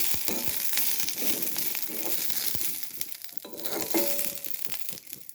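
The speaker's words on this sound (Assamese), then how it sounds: "একদম ল' ফ্লেমত ভাজি আছোঁ মই" Gentle frying crackle in mustard oil on a low flame, with soft sputters and a few scraping stirs, moderately quiet and uneven, no talking.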